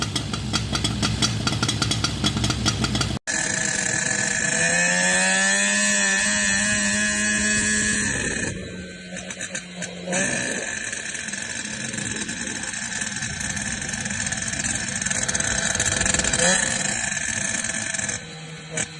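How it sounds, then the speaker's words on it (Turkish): Twin moped (mobylette) engines, freshly run in, hold a steady, loud buzzing idle with a sharp start after a brief burst, then drone on evenly with slight pitch shifts throughout. "Gördüğünüz gibi motor saat gibi sayıyor"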